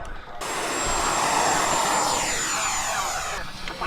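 A Freewing F-22A Raptor 90mm electric ducted-fan RC jet flying at a model airfield, a loud rushing whine that swells as it passes close, with a high sustained tone, then fades away.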